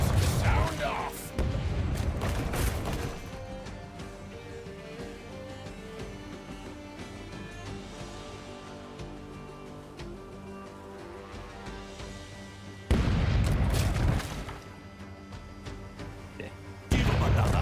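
Ship cannons boom in the pirate game Rogue Waters, heavy blasts at the start, around 13 seconds and again near the end, with a steady musical score and battle noise filling the stretch between.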